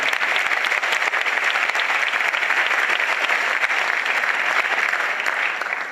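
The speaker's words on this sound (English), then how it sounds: "Let's give them a round of applause." A school audience at a back-to-school night applauds the district's language access interpreters, a dense, steady round of clapping that holds at full strength for about six seconds before easing slightly at the end.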